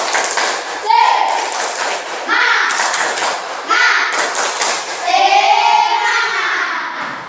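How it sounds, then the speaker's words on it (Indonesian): Schoolchildren perform a spirit clapping routine, chanting in unison with rhythmic claps and thumps in patterned bursts, loud and close in a classroom. "mari kita tepuk semangat"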